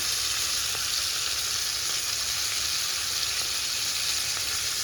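Liver frying in a pan after being turned over, for Jamaican-style liver and onions, with a loud, continuous close sizzle and faint stirring ticks, with no talk.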